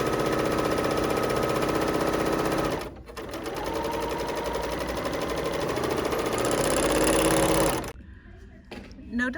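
A sewing machine stitches a facing onto the back neckline piece of a cowl neck tee in a steady, fast mechanical whir. It pauses briefly near three seconds, runs on, then stops near eight seconds, leaving quiet room sound.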